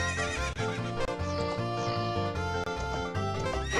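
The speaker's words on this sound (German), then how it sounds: "Ah, wo bist du, Pferdchen? Da kommst du schon alle gereitet." Epona the horse whinnies in Zelda: Ocarina of Time, a loud, close electronic neigh over constant game music with a melodic tune and rhythmic backing.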